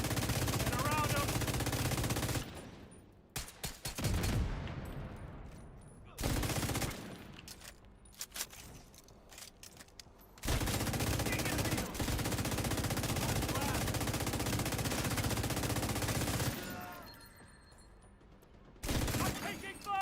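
Gunfire in The Division video game, long dense bursts of rapid automatic fire filling most of the stretch with brief pauses between volleys, loud and close, with voices talking at times.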